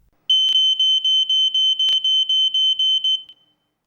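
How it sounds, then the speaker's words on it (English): An Ei Electronics MultiSensor fire alarm goes off after its heat threshold is exceeded, giving a rapid, even series of about a dozen shrill, loud beeps on its own before stopping. "When the temperature level exceeds the 58 degrees Celsius threshold, the alarm will sound and the LED will be activated."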